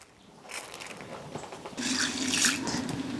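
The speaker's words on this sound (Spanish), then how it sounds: "voy a lavarlos para ponerlos a cocer" Peruvian beans rinsed under running tap water in a sink, starting quiet then swelling into splashing, gushing flow with sloshing bursts, no speech.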